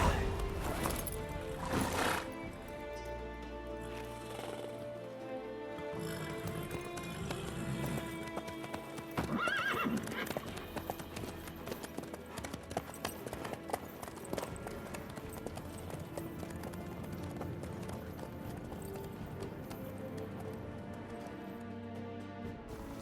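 A horse gallops in The Witcher 3 video game, hooves clip-clopping in a steady running rhythm with a neigh near the start, mixed with background game sounds and occasional voices.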